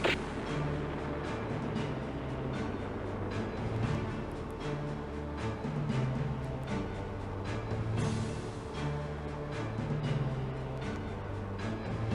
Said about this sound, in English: Missile away. Track 1385.